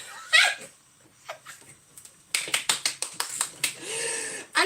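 A person claps for themself at home after a set of squats: about nine sharp, close claps in a quick run, following a few scattered soft taps.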